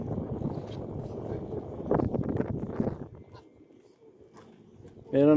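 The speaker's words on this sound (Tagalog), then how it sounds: "maririnig nyo yung ingay ng hangin kasi mahangin kunti ngayon." Gusty sea breeze buffets an outdoor microphone, a rough rumbling roar that swells and fades over several seconds, with a voice breaking in loudly at the very end.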